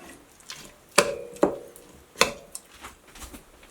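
Canned salmon being mixed with mayonnaise and hot sauce: a few sharp, separate knocks of a utensil against the bowl, with soft scraping between them and no talking.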